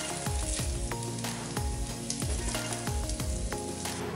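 Steady sizzling of food sautéing in an Instant Pot pressure cooker, with repeated scraping stirs at a regular rhythm. Close and fairly loud, with no talking.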